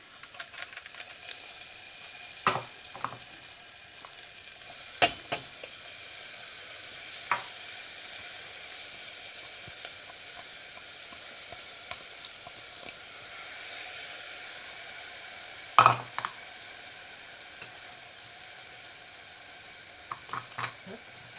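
Onions frying in a pan over lowered heat, a low continuous sizzle with occasional sharp knocks and scrapes from a utensil, close and without talk.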